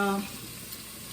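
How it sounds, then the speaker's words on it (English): Green onion sautés in a pan with a soft, steady sizzle. A brief voice is heard right at the start, then the frying continues alone. "just to saute it a little bit"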